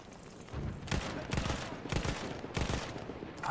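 Gunfire rattles in the video game Battlefield 1, several bursts of rapid shots at moderate loudness with short gaps between them, close and sharp.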